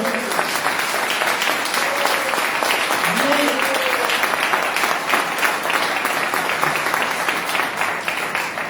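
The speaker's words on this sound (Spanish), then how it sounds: "Quiero un fuerte aplauso para el Señor." A church congregation claps loudly in praise during an evening service, a dense sustained round of applause that keeps going throughout, with a few voices calling out faintly beneath it.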